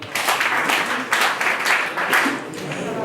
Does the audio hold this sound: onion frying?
no